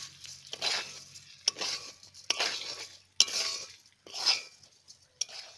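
A utensil scrapes and stirs rice, cashews and raisins with spices in a pan, a few separate swishing strokes with metallic clinks between them, close and moderately quiet.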